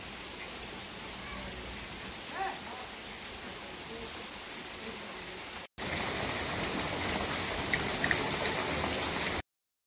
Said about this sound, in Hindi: अचानक से बहुत तेज बारिश होने लगी है।